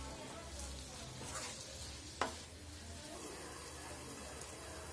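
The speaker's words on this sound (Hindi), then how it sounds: "इसे धीमी आंच पर ही पकाइए क्योंकि तेज आंच पर ही जल जाएगा।" Green chillies sizzling in a tadka of hot oil over a low flame, a steady frying hiss that runs the whole time with a brief sharp clink partway through.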